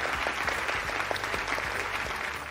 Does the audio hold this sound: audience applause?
yes